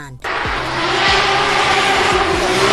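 A Nissan Silvia S-chassis drift car at full throttle, its engine roaring loud and steady with tyres squealing throughout, a hard rising rev flaring up near the start.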